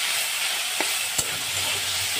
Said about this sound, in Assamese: এতিয়া মই দি আছোঁ শাকখিনি অলপ তেলত ভাজি লওঁ